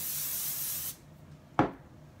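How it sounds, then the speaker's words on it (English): A close, steady hiss of hairspray sprayed onto hair lasts just under a second and then stops, followed by a single brief rub or tap. "So I'm going to use the hairspray again."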